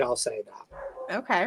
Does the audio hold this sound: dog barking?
yes